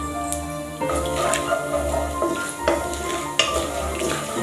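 Cardamom pods, cinnamon and cloves sizzle in hot oil in a pan, a steady crackling fry with occasional stirring clinks and soft tonal music behind it.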